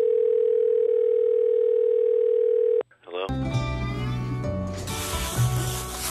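A steady continuous telephone dial tone plays alone for about three seconds, then cuts off abruptly and gives way to louder, busier sounds and voices.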